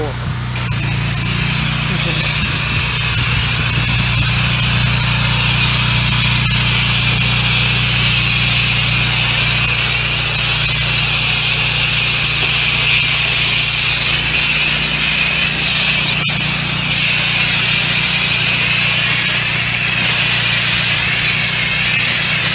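Pressure washer rinses cleaning solution off mold, a loud continuous hissing spray with an engine drone underneath, steady throughout with someone talking over it.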